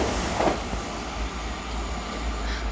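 A train hauled by class 37 locomotive 37220 passes, a steady heavy rumble and rolling rail noise at moderate distance, continuous without clear breaks.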